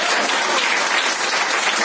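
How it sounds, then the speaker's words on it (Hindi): A hall full of people at a Women's Day event claps loudly and continuously, a thick even roar of hands that stays strong from start to finish with no speech over it. "तो खुद के लिए तालियां कैसे होनी चाहिए?"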